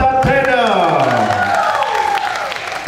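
Audience applause and cheering for a secondary school's creative traditional Sabah dance group at a cultural festival, a dense continuous wash of clapping with a voice sounding over it throughout.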